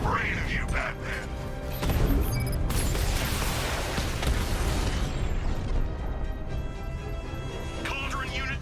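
A cauldron unit explodes in Batman Arkham Knight, a loud crashing burst with metallic clatter and debris that swells, then trails off into rumbling mechanical noise, with a voice speaking over parts of it.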